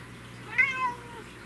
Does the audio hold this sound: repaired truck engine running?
no